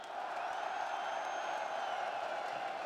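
A live Valorant esports crowd roars at an arena event, a steady, dense wash of cheering and whooping from a large audience, distant but continuous for the whole stretch.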